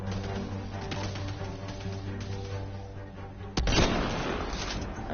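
Gunfire in the sci-fi video game Mass Effect Andromeda, with a sharp close shot and its rumbling aftermath cutting through a steady game background hum and faint scattered pops.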